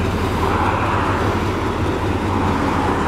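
A 2007 Chevrolet Corvette fitted with Corsa exhaust, long tube headers and SLP intake runs with a steady, full rumble, loud and continuous without any voices.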